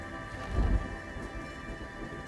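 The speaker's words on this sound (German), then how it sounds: "Es donnert tatsächlich." Low rumbling thunder in the Paperbark game rolls and swells briefly near the start, then fades under a steady wash of rain and insect-like ambience, with no voices.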